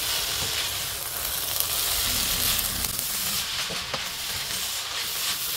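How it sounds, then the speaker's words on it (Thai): Vegetables for Thai spring roll filling are stir-fried in a pan, giving a steady, close sizzle and hiss with faint stirring scrapes throughout. "ผักก็มันนิ่มหมดแล้วผัดให้มันแห้งนิดนึงนะคะ"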